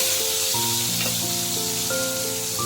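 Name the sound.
banana flower paste frying in hot oil with cumin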